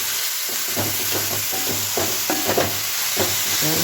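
Ponnanganni greens fry in a pan under a steady sizzle, with a spoon or spatula scraping and stirring in a loose, repeated rhythm close by.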